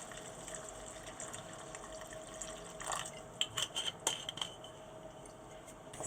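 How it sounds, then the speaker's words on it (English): Wine pours into a pan of seafood sauce with mussels and king prawns, a soft running splash and trickle with a few brighter clinks and drips, quiet and steady under a faint background hiss. "I don't really measure the wine, I just pour it in and gauge it"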